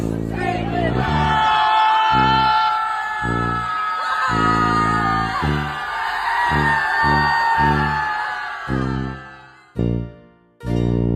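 A crowd at a protest screams and yells together in loud, sustained bursts, repeated roughly every second or two with brief gaps, ending in a couple of shorter shouts.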